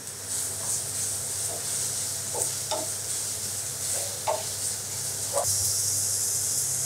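Chopped onion frying with ginger and garlic paste in a pan, a steady low sizzle with a few spoon scrapes and stirring knocks, and a brief sharper hiss late on.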